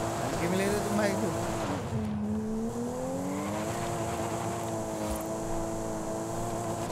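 A Toyota Supra, rear-wheel drive, speeds along a road in high gear, its engine holding a steady tone that rises and falls with revs, heard under someone talking throughout.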